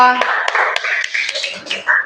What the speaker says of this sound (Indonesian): tepuk tangan untuk Vera